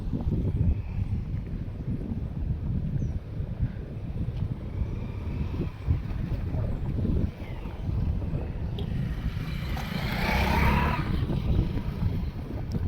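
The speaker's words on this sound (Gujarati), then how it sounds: "જેમ જેમ આગળ જાય છે એમ ભાઈ ઠંડો ઠંડો પવન આવતો જાય છે" Steady, cool wind roars and buffets the microphone throughout, with a low rumbling drone underneath.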